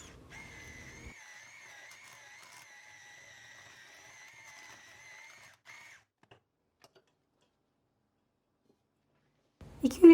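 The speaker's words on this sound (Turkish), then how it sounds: "Mikserle 5 dakika karıştıralım." Electric hand mixer whipping cold cream with whipped cream powder for cake frosting: a steady, fairly faint motor whine for about six seconds, then it cuts off, leaving near silence before a brief clatter at the end.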